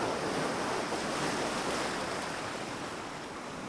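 Ocean waves washing onto shore as a steady broadband rush of surf, continuous and fairly soft, with a slight easing toward the end and no voices.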